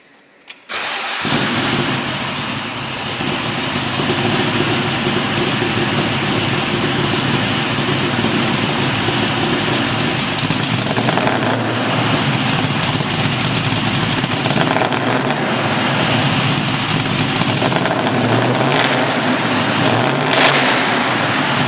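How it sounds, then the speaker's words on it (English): A 1966 Ford Mustang with stepped long-tube headers, a custom 3-inch exhaust and Magnaflow mufflers fires up after about a second, then settles into a steady, loud, close idle. No one speaks. "Stepped long tube headers dump into a custom 3-inch exhaust system with Magnaflow mufflers and give it a voice that's ready for the paddock"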